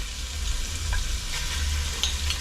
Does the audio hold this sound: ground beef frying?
yes